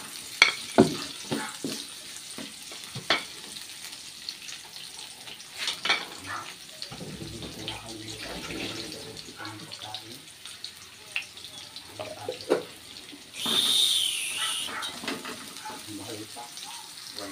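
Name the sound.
onions frying in a pan for pork afritada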